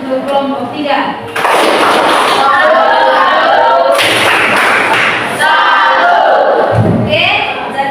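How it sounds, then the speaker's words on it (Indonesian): Schoolchildren in a classroom perform the tepuk salut, a rhythmic clapping chant for a student group. Loud, sharp claps beat in time with voices chanting in unison, filling most of the clip after a brief quieter start. "Mari kita memberikan tepuk salut untuk kelompok 3."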